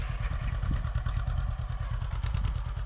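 A John Deere 50 two-cylinder tractor pulling a New Holland 273 small square baler through a hay windrow chugs steadily nearby, its low engine beat joined by a continuous mechanical clatter.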